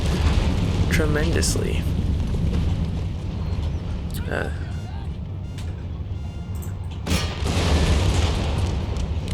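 Cannon fire in the strategy game Empire: Total War, deep rumbling booms rolling across a battlefield in repeated heavy blasts, with someone talking over the din.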